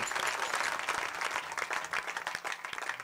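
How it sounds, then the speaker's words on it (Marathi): Applause from a devotional gathering, a dense patter of many hands clapping steadily at moderate volume, with a faint voice underneath. "बाप्पांच्यासाठी एकदा जोरदार टाळी वाजवायचे सगळ्यांनी"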